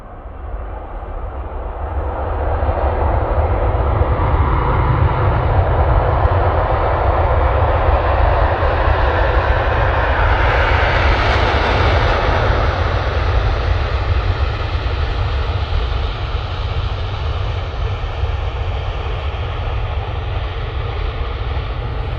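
An Emirates jet airliner passes over Manchester Airport in a loud, broad engine roar that rises quickly, peaks near the middle and lingers as a heavy rumble, with no voices present.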